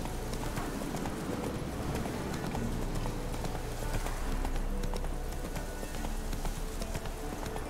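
Roach, Geralt's horse in The Witcher 3, galloping with steady clip-clop hoofbeats under a dense wash of ambient game sound, continuous and moderately loud.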